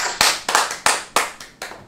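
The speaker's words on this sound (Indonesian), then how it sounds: "tepuk tangan dulu di studio" Hands clapping in a television studio, six sharp, loud claps in an uneven rhythm, each with a short ringing tail, with no voices over them.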